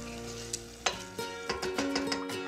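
Risotto rice stirred in a pan with white wine just added, sizzling steadily with a series of sharp spoon scrapes and knocks against the pot; close, no talking.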